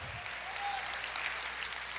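A church congregation clapping together in steady, dense applause, a continuous wash of many hands at moderate distance for the full stretch, with no voices standing out.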